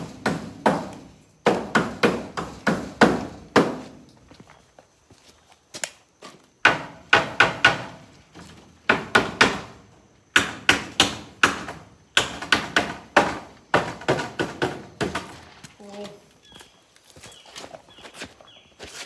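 Sharp hammer blows driving raised nails into wood ring out in quick bursts of several strikes, pausing between runs, close and loud with a hard metallic knock.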